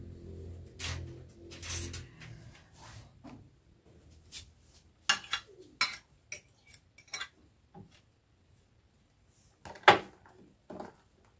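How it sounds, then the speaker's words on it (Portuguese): Metal cutlery clinks and clatters as a spoon is picked up while a complete hamburger is being assembled, with an initial rattling burst, then a series of sharp, separate chinks and a loud clink near the end over otherwise quiet room tone. "Vou só pegar uma outra colher."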